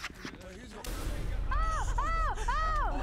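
A grenade bursts in SCP: Secret Laboratory, a sudden loud blast followed by a sustained roaring rumble, while warbling, siren-like game tones rise and fall repeatedly over it.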